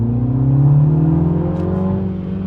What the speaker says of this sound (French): Allez, petite accélération.